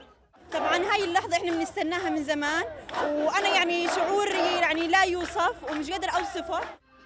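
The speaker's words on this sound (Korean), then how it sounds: "주민들은 거리로 뛰쳐나와 환호성을 터뜨립니다." Residents out in the streets celebrating an Israel-Hamas ceasefire, with loud overlapping shouts and chanting cheers from a close crowd that run almost unbroken for about six seconds.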